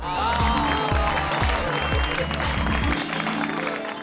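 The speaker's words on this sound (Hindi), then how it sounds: "उसके लिए जोरदार तालियां तो बनती हैं" A crowd claps loudly at a Ganesh Chaturthi celebration. The dense applause sits over a pounding rhythmic drumbeat and fades slightly toward the end.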